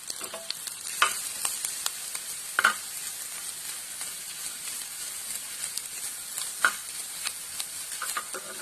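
Grated coconut fries in hot ghee in a pan, giving a continuous soft sizzle with occasional scraping stirs and small pops, close by and with no voices.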